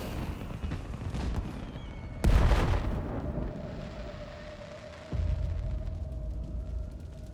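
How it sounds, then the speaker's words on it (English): A firework blast erupts abruptly in a fight in the video game Death Stranding 2: On the Beach, followed by a sustained tonal hum and a second lower boom over a steady rumbling background. "I'm getting into a fight involving fireworks the day before the 4th of July."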